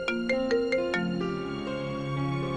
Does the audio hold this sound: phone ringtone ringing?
yes